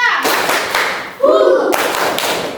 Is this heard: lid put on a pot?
no